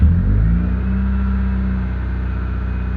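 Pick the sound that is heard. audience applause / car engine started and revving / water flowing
car engine started and revving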